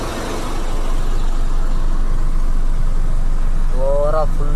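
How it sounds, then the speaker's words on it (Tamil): Heavy road traffic near Ambur railway station, a loud constant rumble of cars, buses and trucks close by, with a horn sounding near the end. "ஓவராக ஃபுல்லாக டிராஃபிக்."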